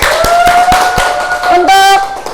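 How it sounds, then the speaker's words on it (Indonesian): Classroom applause for a student's correct answer rings out in a short, close burst of clapping hands, with a few sharp individual claps and voices speaking over it. "Tepuk tangan buat Mbak Elda."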